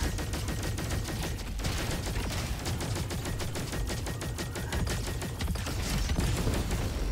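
Explosions and rapid gunfire in the shooter video game RoboQuest, a dense, loud, continuous barrage of shots and blasts with barely a pause.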